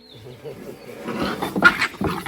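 Puppies play roughly on a ghat road in Mizoram, giving short growls, yips and scuffling bursts that grow louder toward the end, mixed with some background voices.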